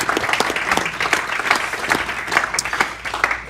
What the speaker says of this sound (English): So another round of applause for those guys